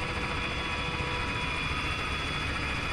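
A Raven helicopter flying in a video game makes a steady, fairly faint rotor and engine drone, even and continuous, with no voices during it.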